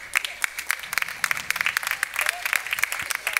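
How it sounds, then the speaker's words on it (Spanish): Congregation in a church service clapping a loud round of applause to the Lord, dense and steady throughout, with voices mixed into the crowd. "le dé un fuerte aplauso al Señor"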